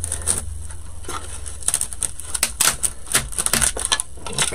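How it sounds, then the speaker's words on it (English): A buzzing electric carving knife chatters and crunches through styrofoam in uneven bursts, close up, with a steady motor hum underneath. "is from a carving knife, an electric carving knife, and I actually use this when I'm cutting styrofoam"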